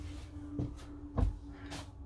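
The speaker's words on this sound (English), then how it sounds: "close the door like that." A toilet door inside a motorhome swings and shuts, a few soft knocks ending in a low thud, close and quiet over a faint steady hum.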